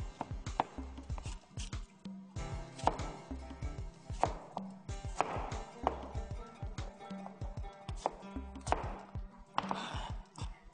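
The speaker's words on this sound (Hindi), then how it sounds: "फिर आप इनको चॉप कर लें, रफली चॉप करें" A knife roughly chops peach, apple and plum on a board, crisp irregular knocks coming in quick clusters with short pauses, close and clear with no talk.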